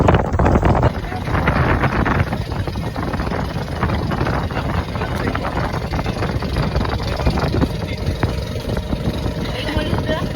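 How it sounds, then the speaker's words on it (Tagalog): Strong wind buffets the microphone in a constant, heavy roar at Calatagan, Batangas, with faint voices barely audible beneath the rumbling gusts. "Lakas ng hangin."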